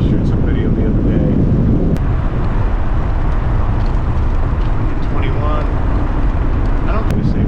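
Strong wind buffets a GoPro action camera microphone outdoors, producing a steady, loud low roar that never lets up.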